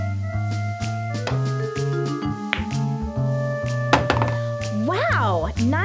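Pool balls clack on the table in the Maximum Pool billiards game, with a few sharp knocks scattered over steady background music.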